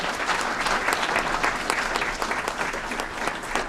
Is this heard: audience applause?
yes